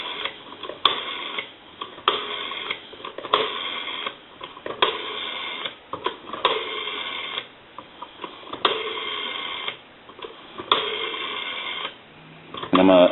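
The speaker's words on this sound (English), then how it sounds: "I'm going to give you some dial tone" A rotary desk telephone under repair gives a steady dial tone in the handset line, broken again and again by short gaps and clicks as the dial returns, with a brief rattle at the end.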